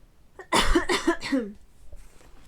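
A woman coughs into the back of her wrist, a short burst of three or four close, harsh coughs with a faint throat sound trailing after in a quiet room.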